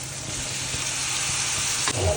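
Mustard seeds and onion fry with blanched cauliflower in a hot pan, giving a steady, close sizzle throughout, with a brief clatter of stirring at the end.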